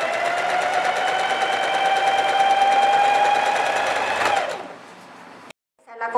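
A sewing machine stitches the side seams of a pleated skirt, running at a steady fast whir for about four seconds and then slowing and stopping, heard close with no talk.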